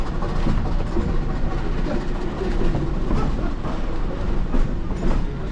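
A Yosemite Mountain Sugar Pine Railroad train rumbles along the rails at speed, a steady heavy roar with rhythmic clacking, close by and loud.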